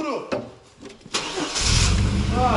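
Chevy Blazer with a 4.3 engine, left standing for three months, cranking in short bursts then catching into a loud, steady low idle, with people talking before it starts.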